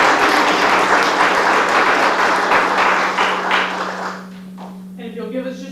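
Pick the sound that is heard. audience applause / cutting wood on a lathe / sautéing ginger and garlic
audience applause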